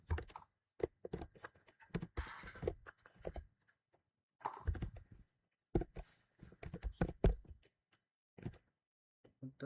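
Someone types code on a computer keyboard, producing close bursts of quick key clicks separated by short pauses, with quiet speech mixed in at times.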